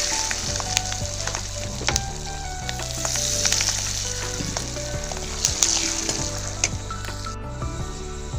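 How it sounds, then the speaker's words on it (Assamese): Peanuts sizzle and crackle in a hot pan with a little salt, a steady frying hiss broken by sharp pops and the scrape of stirring, close and loud with no voices. "এইখিনি মই এতিয়া এনেদৰে অলপ সময় ভাজি লওঁ"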